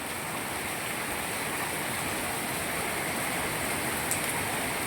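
Steady rain pours down in a monsoon downpour in Moti Gop, Gujarat, a dense, continuous hiss of falling water close by, unbroken for the whole stretch with no voices.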